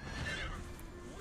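A war horse in the Samkok Reborn 3D video game gives a short, loud neigh over dense game music and effects.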